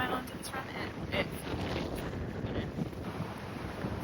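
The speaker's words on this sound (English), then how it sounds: "it's very windy out" Wind buffets a microphone outdoors on a very windy day during a run, giving a steady, low rumbling roar with gusty swells that fills the whole stretch, with no clear talking over it.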